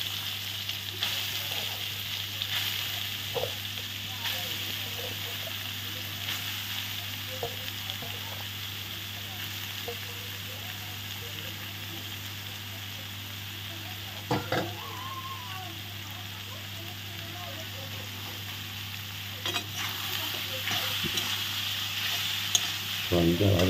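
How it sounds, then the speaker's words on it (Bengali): Soybean chunks fry in hot mustard oil in a wok, a continuous close sizzle with occasional stirring clatters and a steady hum underneath. "সোয়াবিনটা ভাজা হচ্ছে, সোয়াবিনটা ভেজে নিচ্ছি"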